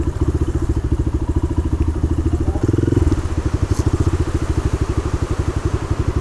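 A motorcycle engine idles steadily nearby beside a spring resort under a bridge, its pulsing low putter running evenly throughout with a brief rev midway.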